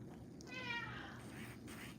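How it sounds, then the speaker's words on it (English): Several house cats meow in a short run of rising, whining calls, fairly close, over steady low background hum with no talking. "I hear you, kitties."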